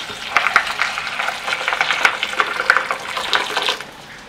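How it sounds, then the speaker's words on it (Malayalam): Hot water being poured over large soya chunks to soak them, a steady close splashing and gurgling stream with bubbly fluctuations, alone with no talk. "നല്ല തളച്ച വെള്ളത്തിൽ വേണം കേട്ടോ കുതിർത്തി വയ്ക്കാൻ"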